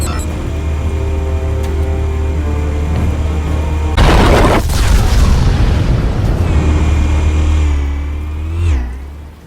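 A heavy explosion bursts in a Batman Telltale video game scene after a low steady engine drone, followed by crackling debris and rumble that fade out.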